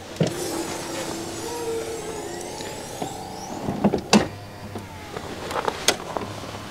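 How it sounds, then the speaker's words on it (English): The power lift gate of a Mercedes-Benz EQC electric SUV closes on a winter day, a motor whirring steadily and drifting in pitch, followed by a few sharp clunks and latching thuds near the end. "And then we close the lift gate."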